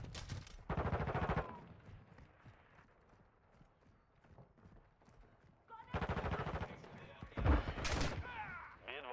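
Bursts of Call of Duty: Modern Warfare 2 gunfire, rapid automatic volleys at the start and again near the end, fairly quiet in the game mix with players talking in between.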